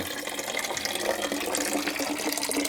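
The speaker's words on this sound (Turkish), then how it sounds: "Oluklara yeni yapılan çeşme" Water pours steadily from a newly built highland fountain into stone animal troughs, a continuous close splashing and gurgling flow with no voices.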